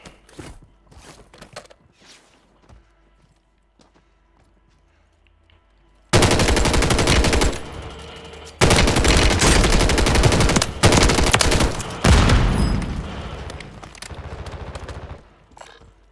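Gunfire erupts in the video game Warzone: after a quiet stretch of faint clicks and movement, loud sustained bursts of automatic fire hammer away in several long volleys, briefly broken between them.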